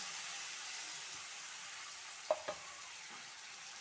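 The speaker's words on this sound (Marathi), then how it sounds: "भाजी टाकून घेतल्यानंतर ती पूर्ण याच्यामध्ये मिक्स करायची आहे" Spring onion greens and chilies being stirred into a pan for a quick moong dal bhaji, a soft steady sizzle with two brief utensil scrapes.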